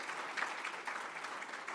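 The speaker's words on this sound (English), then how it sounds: "Can I also request a round of applause?" Brief, fairly faint applause rises from the audience at a university gala dinner for the Chief Financial Officer, an even patter of many hands clapping with no talk over it.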